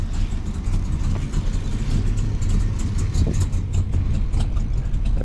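A cold Chevy Nova idles close by, a loud, steady low rumble with rough, lumpy pulses and no voices over it.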